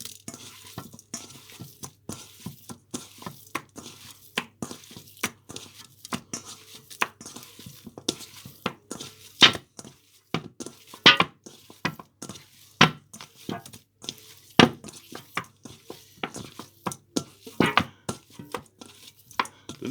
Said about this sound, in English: the next stage is get our hands in and give it a good mix together